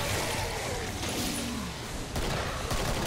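Gunfire in the co-op shooter Killing Floor, dense continuous firing bursts and a loud wash of combat noise throughout, with voices talking over it.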